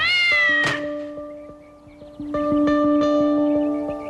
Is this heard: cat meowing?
yes